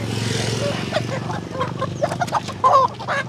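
Ready-to-lay pullet chickens on a backyard farm clucking and squawking close by during delivery, steady overlapping flock calls with a sharper squawk near the end, and people talking among the birds.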